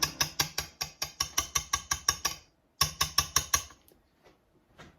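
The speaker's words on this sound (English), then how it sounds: "Start the mixture when it's more wet than dry with a whisk." A whisk beating a wet mixture in a bowl, a quick regular run of about fifteen sharp clinking strokes, a brief pause, then five more before it trails off into quiet handling sounds.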